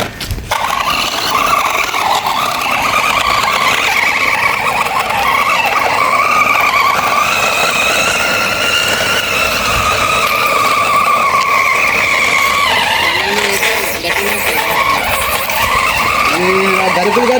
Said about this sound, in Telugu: ఇక్కడ డ్రిఫ్ట్ కొట్టి చూపిస్తాం